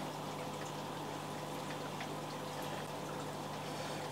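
Watery pouring and splashing as brine shrimp are tipped from a net into a discus aquarium, a constant close wash of liquid with a low hum underneath and no voices.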